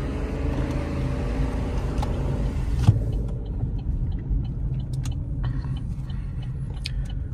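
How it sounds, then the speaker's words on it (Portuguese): A 2023/2024 Chevrolet Tracker LT with the 1.0 turbo engine accelerating, a steady low engine drone heard from inside, loud at first then easing into a quieter hum, with faint clicks and no talk. "Se você acelerar aqui, ela sai distracionando tudo."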